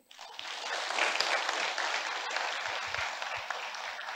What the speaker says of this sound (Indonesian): Tepuk tangan yang ikhlas.